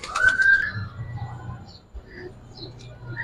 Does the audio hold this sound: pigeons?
yes